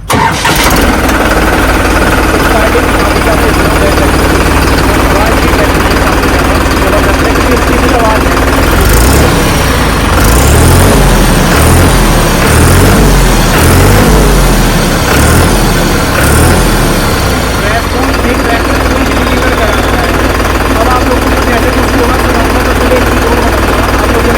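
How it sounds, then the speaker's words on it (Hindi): New Holland 3630 Special Edition tractor engine idling in neutral, a steady loud diesel rumble throughout with rougher, heavier knocking for several seconds in the middle, no talk over it. "सबसे पहले स्पेशल एडिशन की आप लोग आवाज़ सुन लो।"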